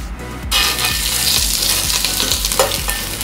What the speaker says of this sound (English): I'm gonna be adding some of this oil to the pan to saute this shrimp